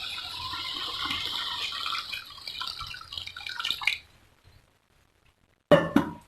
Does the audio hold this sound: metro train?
no